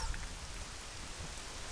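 Rain falling at Lake Hylia in the Zelda: Ocarina of Time video game, a steady, soft patter of drops on a surface, continuous and even with no voices.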